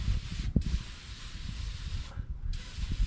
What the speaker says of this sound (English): So what I'm going to do is I'm just going to spray everything.